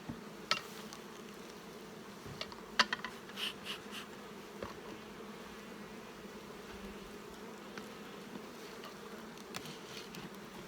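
Honey bees hum in a steady low drone inside a wintered nuc of four frames, close and continuous, with a few faint clicks and knocks from handling.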